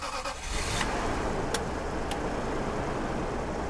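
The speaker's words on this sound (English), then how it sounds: "let's see if we can give her some gas" Toyota 2UZ-FE 4.7 litre V8 with around 280,000 miles, revved at an auction walk-around, a loud steady engine roar close by after a brief start, no talk over it.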